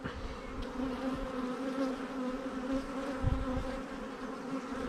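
Honey bees hum at an open beehive during swarm-prevention checks, a dense steady buzz of many insects close by with no talking.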